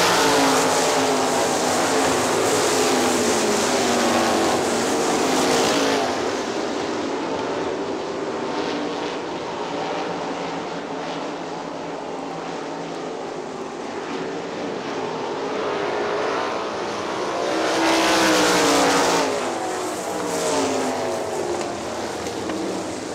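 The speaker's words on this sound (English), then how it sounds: "Steve Kreig leads them back down under the green flag." Several loud sprint car engines roar past in waves on a dirt oval at Hartford Speedway Park, swelling and fading as the pack circles the track.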